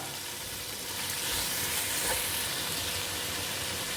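Chicken fried rice sizzles steadily in a pan as it is stirred, a continuous broadband frying hiss with soft scraping that swells slightly midway, with no talking.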